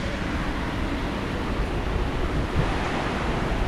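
A swollen river rushes during hurricane winds, a steady loud broadband roar of churning water with wind mixed in, unbroken and close throughout.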